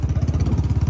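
A modified Bullet motorcycle engine thumps in a steady, rapid low pulse, close and moderately loud, with no voices over it.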